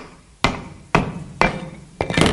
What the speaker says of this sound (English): I'm going to use my hammer handle